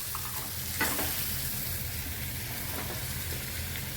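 Dried shrimp with turmeric stirred in a frying pan, a soft continuous sizzle broken by a few spatula scrapes against the pan, close and unaccompanied by speech.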